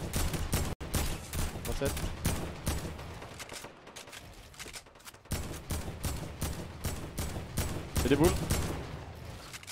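Sustained gunfire in a team shooter video game match, dense rapid bursts with brief pauses, loud and continuous under overlapping voices of players talking.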